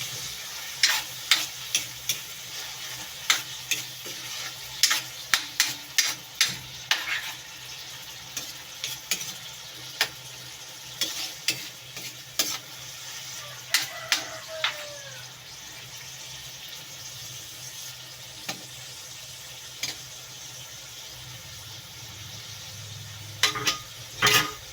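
Marinated chicken liver and gizzards frying in a pan with soy sauce while being stirred, giving a steady low sizzle broken by sharp scraping clicks and knocks of the utensil through the clip.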